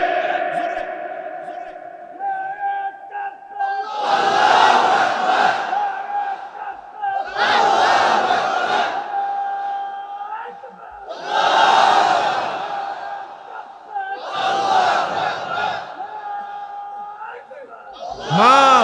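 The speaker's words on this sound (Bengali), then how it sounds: "আজকে জোরে একটা স্লোগান" A large crowd at an Islamic religious gathering (mahfil) shouts a slogan in unison, four loud bursts of massed voices with pauses between them, echoing over a sustained backdrop of a crowd's voices.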